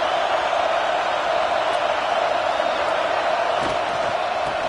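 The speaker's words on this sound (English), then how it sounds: "It's early, but this crowd is fired up. Listen to this noise here." A Madden video game stadium crowd roars in a dense, steady wash of cheering and shouting that stays loud and unbroken throughout, with no single voice standing out.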